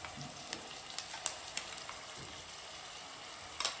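Onions and ginger-garlic paste frying in oil in a home kitchen, a soft, steady sizzle with a few light clicks and taps of a utensil, fairly quiet and with no talking.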